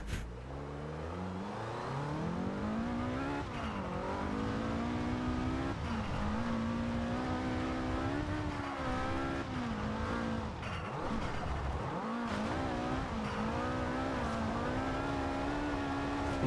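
A Ford Escort RS 2000 in Forza Horizon 2 drifts with its engine revving and droning steadily up and down, a loud continuous whine with shifting pitch and some tire squeal.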